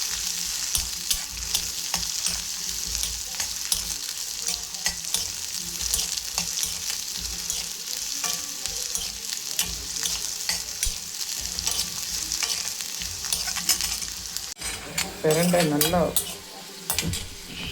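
Pirandai (adamant creeper) fries in oil, a steady bright sizzle with frequent scraping stirs against the pan throughout, and a brief voice near the end.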